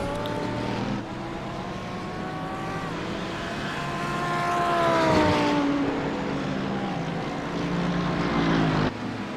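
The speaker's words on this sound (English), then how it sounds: "You can hear the cars running down that long super speedway section, bouncing off the rev limiters." Several race car engines roar at high revs, bouncing off the rev limiters on the Daytona superspeedway in a racing game, pitches sweeping as they pass, with a steady loud drone throughout.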